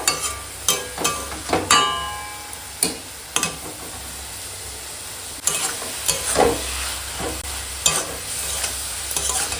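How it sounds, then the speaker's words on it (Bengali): Greens stirred and frying in a wok with onion stalks and eggplant, spatula scrapes and clatters coming in irregular bursts over a low, steady sizzle. "পেঁয়াজ কলি বেগুন দিয়ে খেঁচা করে শাক রান্না"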